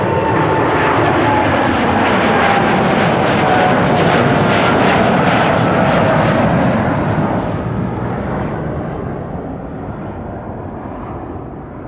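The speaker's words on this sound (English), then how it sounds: "That was KLM Flight 615 on its way to Portland, Oregon" KLM airliner departing Amsterdam Schiphol for Portland, Oregon: a powerful, close jet roar with a rising engine whine that peaks midway, then slowly fades as it climbs away, with no talk.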